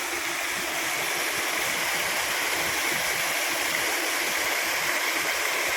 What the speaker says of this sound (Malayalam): ചെറിയൊരു വെള്ളച്ചാട്ടം പക്ഷേ നല്ല അടിപൊളിയാണ്